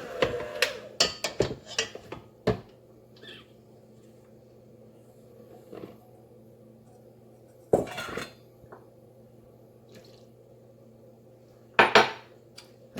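Baking ingredients and orange juice being mixed in a bowl, heard as a series of clinking utensil-on-bowl strokes in bursts separated by quiet pauses, close and moderately loud.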